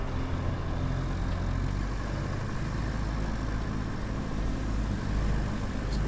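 An off-road truck in the video game RoadCraft grinds through mud, its heavy engine giving a steady, low, continuous rumble at close range with no breaks and no talking.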